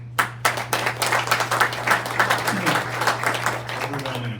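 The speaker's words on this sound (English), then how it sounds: "Overwhelming applause, love it" A small audience at a community meeting breaks into a brief round of applause, sharp claps building then thinning out over a steady low hum.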